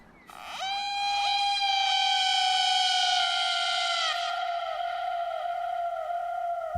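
A wailing ambulance siren in a radio drama, loud and close, sounding as one sustained, gliding electronic tone that sweeps in and holds steady, with no talk over it.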